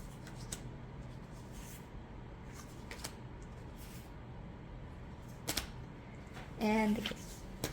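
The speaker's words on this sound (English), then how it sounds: "It shuffles really well because of the slightly thinner cardstock." Soft riffle-and-bridge shuffling of a thin-cardstock tarot deck, repeated papery flutters over a steady background hiss, with a louder brief rasp near the end.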